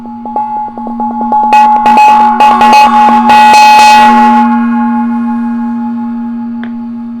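A gong struck to open a reading, starting with a rapid series of strikes that swell into a loud shimmering crash, then a long sustained ring slowly fading out.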